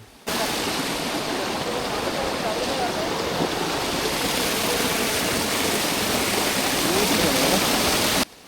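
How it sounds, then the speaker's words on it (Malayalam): A waterfall in dense forest crashes down among black rocks, a loud, steady roar of falling water that fills the scene from start to finish without pause. "കരിമ്പാറകളാ ചുറ്റപ്പെട്ട് കിടക്കുന്നതിനിടയ്ക്കാണ് ഈ വെള്ളച്ചാട്ടം"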